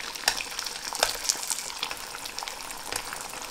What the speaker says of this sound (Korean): 좀 약한 불에서 계란이 익도록 튀겨주시면 됩니다